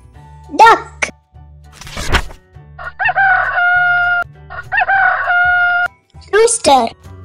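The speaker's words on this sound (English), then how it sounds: "Rooster." A rooster crows twice in long, loud, close cock-a-doodle-doo calls, framed by brief higher-pitched squawks and a voice, over a low background tone.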